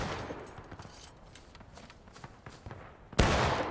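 Musket volleys crackle in a Civil War battle in War of Rights, many scattered distant shots popping throughout, then a loud close blast near the end.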